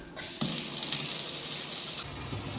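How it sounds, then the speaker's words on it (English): Water gushes steadily from a newly connected faucet after the supply valves are opened, a broad continuous hiss that starts abruptly and runs alone at close range. "so I'm about to try the water now."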